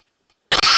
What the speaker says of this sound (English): Sorry for coughing into the mic.